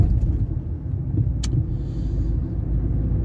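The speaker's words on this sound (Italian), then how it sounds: "vanno via le macchine qua davanti" Cars pull away along a street in Viterbo, Italy, a steady, close, rumbling engine noise with one sharp click partway through and no talk.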